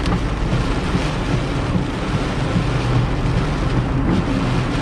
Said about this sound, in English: The storm is really here, or it's close by.